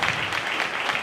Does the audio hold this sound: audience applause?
yes